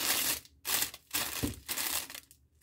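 Cellophane being fluffed for an Easter bucket, giving loud crinkling, crunching bursts in several close handfuls separated by brief pauses.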